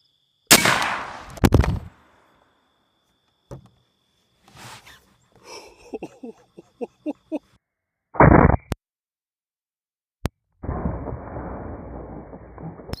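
A .58 caliber AEA Zeus big bore airgun charged to 4,500 PSI fires into FBI gel from 10 feet, giving a sharp, loud crack early on, followed by scattered clicks, handling noises and brief bursts of air release.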